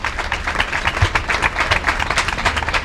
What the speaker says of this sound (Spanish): damos un fuerte aplauso a María Dolores